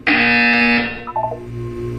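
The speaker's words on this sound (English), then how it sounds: "You will hear a buzzer." A loud, harsh electronic buzzer from the video game Portal 2 blares for about a second, then fades into quieter tonal game sounds and a low hum.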